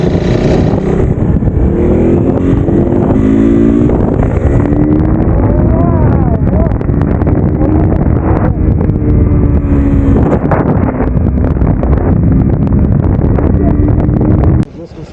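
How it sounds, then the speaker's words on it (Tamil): A KTM RC 390 BS3 motorcycle engine revs up and down in rising, swelling pulls while being ridden, with loud wind rush buffeting the microphone throughout. "RC 390 BS 3யோட பவரை நான் இப்போ காட்டுறேன் பாருங்க"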